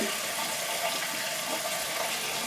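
Tap water runs steadily to dampen makeup brushes, a continuous close hiss and splash with no pauses and no talking.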